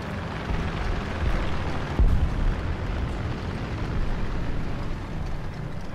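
A bomb explosion in War Thunder during a German rank 4 match: a continuous heavy roaring rumble with a sharper blast near the middle.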